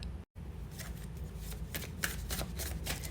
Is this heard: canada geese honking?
no